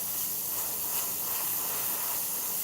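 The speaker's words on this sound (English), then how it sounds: "So you just spray that white out over it" An Iwata CM-SB airbrush sprays white Createx correction paint over a painted edge on Claybord, a steady close, soft airy hiss that runs without a break and without talk.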